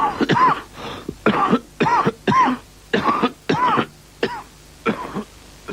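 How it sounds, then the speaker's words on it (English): A run of about ten short, throaty coughs and throat-clearing bursts in an uneven rhythm, close and fairly loud, with no other sound, from a cough remedy TV advert on poor VHS. "So when you've got a cough"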